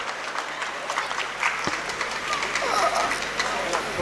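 An audience claps loudly at a poetry session of the Hassan Sahityotsava 2025 literature festival, a steady wash of applause with a voice faintly beneath it.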